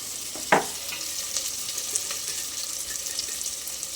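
Tomatoes sautéing in a pan for cauliflower curry, a steady close sizzle and hiss with a brief stirring clatter near the start, continuous and without talk.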